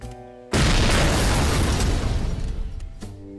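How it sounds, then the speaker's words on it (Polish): A sudden loud, booming game explosion that bursts in abruptly, then rumbles and slowly fades before cutting off. "coś wybuchło"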